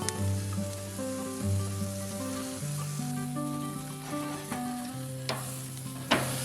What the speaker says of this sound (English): We're cooking our bison rare today.